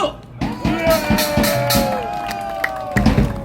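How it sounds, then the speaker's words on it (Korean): Applause breaks out at a political press conference, with irregular claps mixed with raised voices and cheering from the crowd, loud and close. "박수!"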